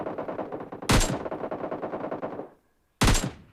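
In the PUBG Lite video game, two sharp bursts of gunfire crack out about two seconds apart, each loud and close, with a softer rattling din between them.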